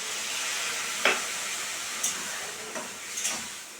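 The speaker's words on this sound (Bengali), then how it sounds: "এখন আমি একটু গরম জল দিয়ে দেব" Hot water goes into a pan of frying mixed vegetables for a paneer curry, bringing a low, steady sizzle and hiss with a few brief sharp spits and clinks.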